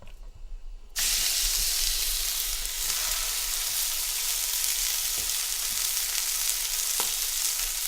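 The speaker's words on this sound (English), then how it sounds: "We're going to sear these real good." Pork chops drop into a hot pan and burst into a loud, steady sear that stays close and continuous, with only a faint knock or two against the pan.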